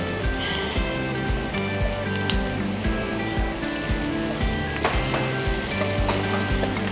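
Onion, green beans and carrots frying in a pan, a loud, dense sizzle and crackle running throughout with repeated stirring scrapes and clatter, no voices.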